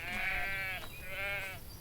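Sheep in the farming game Everdream Valley bleat twice in quick succession, each a wavering, nasal cry, clear and close over faint background sound.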